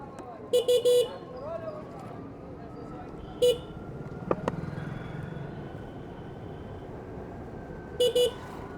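Short horn beeps from a Suzuki e-Access electric scooter sound in quick bursts, two or three at a time and repeated, over a low steady engine hum with a brief clunk in the middle.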